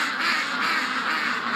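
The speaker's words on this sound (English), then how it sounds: "So we're going to let the ducks out here." Ducks quack steadily as they are let out of their pen, a dense, continuous chorus of overlapping calls close by with no talking.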